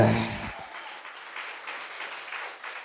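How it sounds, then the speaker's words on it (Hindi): Applause from a church congregation, fading after a loud opening burst and continuing as steady clapping. "ताली बजाओ जोर से"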